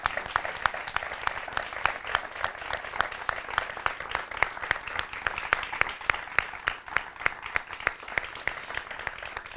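Applause from a studio audience at a talent casting show, steady rhythmic clapping throughout at moderate level, with no talking over it.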